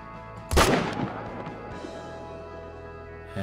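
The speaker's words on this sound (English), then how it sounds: "That shot was absolutely perfect with the M1 there." A single sharp M1 rifle shot in theHunter: Call of the Wild, loud and close, rolling off into a long fading echo over quiet ambience.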